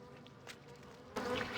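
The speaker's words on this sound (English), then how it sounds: "The buzzing noise is from this item, which is called Disturb Grave Soil" Night of the Dead's Disturb Grave Soil item gives off a continuous insect-like buzzing that hums softly, then grows suddenly louder and denser partway through.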